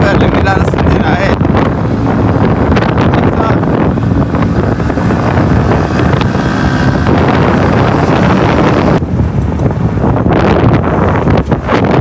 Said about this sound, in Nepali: अब हाम्रो बाइक चाहिँ अलिकति रफ्तार हुन्छ